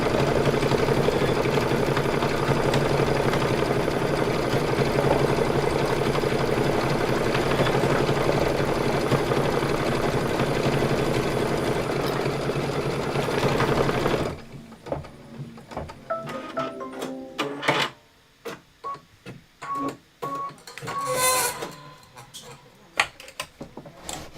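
Sewing machine running steadily to stitch a pillow for a Sweet Land of Liberty quilt-style project, a continuous close whirring drone for about fourteen seconds that stops abruptly, followed by quieter handling clatter and scattered rustling.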